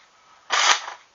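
A Nerf Slingfire toy blaster is fired, a single sharp, loud plastic snap close up after a quiet moment.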